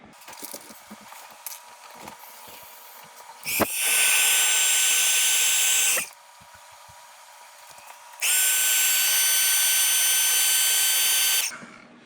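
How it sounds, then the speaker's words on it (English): A heat gun runs in two steady, loud bursts of roughly two and a half and three seconds, shrinking heat-shrink tubing over soldered wires for an LED mod inside a TBS Tango 2 radio controller, with quiet handling sounds between the bursts. "I applied the heat shrink over that's not heated up yet and brought down the size"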